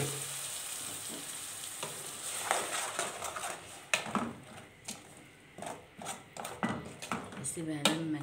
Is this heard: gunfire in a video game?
no